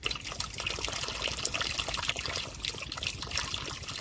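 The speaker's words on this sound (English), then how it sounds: "once you start the flow of water, you can just turn it off" Water flowing through an aquarium siphon hose with an on-off switch, a steady close trickling and splashing stream that runs continuously with no voices.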